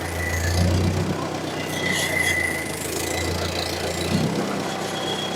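A 1954 Ford NAA tractor engine runs at a steady low idle while reversing, with a constant close rumble and faint mechanical whine and no talking.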